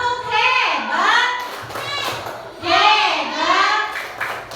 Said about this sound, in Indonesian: kasih tepuk hebat untuk kelompok 4